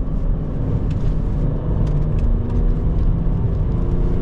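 BMW X5 E70 3.0 SD diesel rumbling from the cabin while downshifting into a corner on a twisty road, a continuous low engine drone with slight pitch shifts and road noise.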